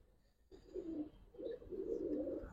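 Giribaz pigeon cooing softly in short, close, low-pitched bursts separated by brief pauses against a quiet background.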